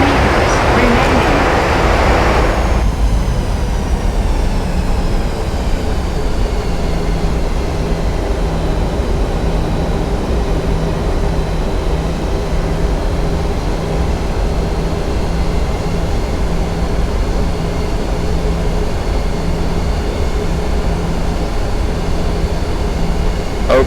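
Airliner engines roar in reverse thrust during landing in the Prepar3D flight simulator, a loud sustained broadband rumble that cuts down sharply after a few seconds and settles into a steady lower drone.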